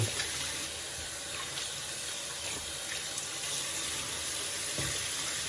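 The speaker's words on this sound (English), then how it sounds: "first, wash your hands and then wash the tattoo." A water tap runs steadily into a sink while hands and a fresh tattoo are washed, a constant faint hiss of flowing water with small splashes throughout.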